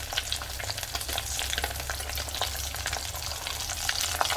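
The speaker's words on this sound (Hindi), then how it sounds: "बाकी के बचे हुए भी मैं फ्राई कर ले रही हूँ।" Taro root pieces fry in hot oil with an even, continuous bubbling sizzle close up. Small crackles and pops scatter through it, and no one speaks.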